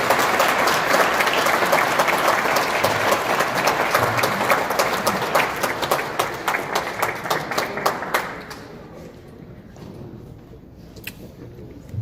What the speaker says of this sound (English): Let's give a round of applause to my dear friend, our religious leader, Imam Jurman.